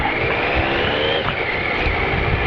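Triumph ST955i motorcycle on a ride, its engine a steady, continuous drone with a rising whine, heavy wind rumble underneath, close and loud throughout.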